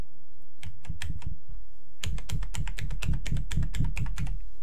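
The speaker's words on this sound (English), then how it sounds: "I just have to press every button on the keyboard" Computer keyboard keys are pressed one after another in quick uneven bursts, a cluster of clicks followed by a brief pause and then a longer, louder run of clacking taps.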